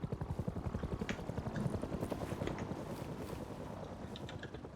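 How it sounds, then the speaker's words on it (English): A helicopter circles overhead in the Rust video game, its rotor thumping in a fast, steady pulse that is loud at first and fades slightly as it moves away. "this fucking helicopter's just been circling us for like 5 minutes"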